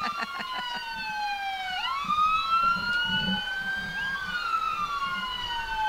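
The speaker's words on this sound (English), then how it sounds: "Another North Clay Fire Protection District truck." A North Clay Fire Protection District fire truck siren at a small-town fall festival parade, a loud wailing tone sweeping down and up, with a brief yelp burst at the start and faint engine rumble beneath.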